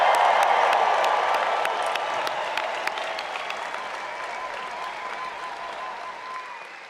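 A graduation crowd at the NC State spring commencement breaks into dense, sustained applause with cheers and whoops. The clapping is loud at first and slowly fades, with faint voices mixed in.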